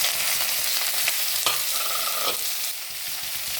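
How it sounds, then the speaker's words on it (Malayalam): Chopped onion, curry leaves and green chilli sizzle steadily in hot ghee in a pan, a loud continuous frying hiss with a few stirring scrapes and clinks, no voices. "ഇതൊന്ന് കുറച്ച് വഴണ്ടി വരട്ടെ."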